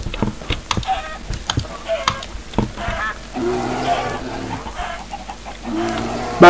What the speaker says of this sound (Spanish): Están atacando las gallinas.